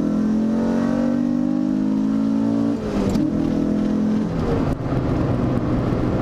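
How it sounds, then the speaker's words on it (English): A Mazda MX-5 engine revs hard as the car accelerates, fitted with Voston budget coilovers: a loud, steady, rising drone from inside the car that drops sharply as gears change, then climbs again. "getting an MX-5, you rev the guts out of it, and you're still only doing 80 kilometers an hour"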